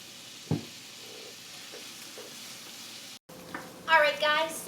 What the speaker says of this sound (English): I have been letting my onions kind of saute down here and get nice and caramelized